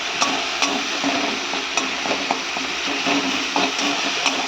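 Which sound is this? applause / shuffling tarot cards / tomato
tomato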